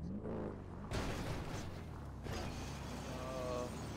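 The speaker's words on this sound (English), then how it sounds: "Door fell off." In a roleplay driving game, a car door falls off: a sudden metallic clunk and scrape sets off a louder burst of mechanical rattling and creaking over constant engine and ambient game noise.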